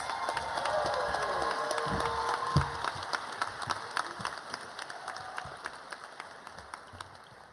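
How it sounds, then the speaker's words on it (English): A crowd at a medical school white coat ceremony applauds steadily, the clapping loud at first then thinning into scattered claps as it trails off. "Let's give this group a round of applause."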